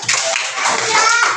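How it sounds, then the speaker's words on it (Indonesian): Children in a classroom applaud a group with a short burst of dense clapping, mixed with young voices chattering. "terima kasih tepuk tangan buat kelompok A."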